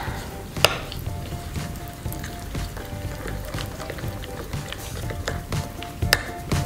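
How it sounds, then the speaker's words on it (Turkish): Peanuts being stirred into a dipping sauce for Vietnamese spring rolls, giving soft, irregular scraping and clinking of a utensil against a bowl, close and moderately quiet, with a couple of sharper knocks and no talking. "Ve bir güzel karıştırıyorum."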